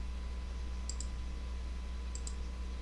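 Computer mouse clicking while working in Adobe Illustrator with the pen tool, two pairs of quick, crisp clicks over a steady background hum.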